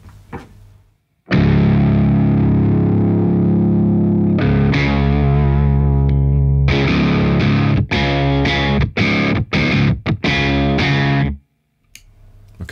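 Distorted electric guitar through a BOSS OC-5 octave pedal, doubled by a deep octave, long ringing chords followed by a series of short choppy stabs, loud and alone.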